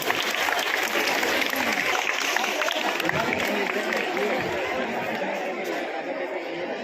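Village Independence Day celebration in Chandana, with an audience giving a woman a loud, sustained round of applause, steady and dense clapping from a large crowd with background chatter throughout.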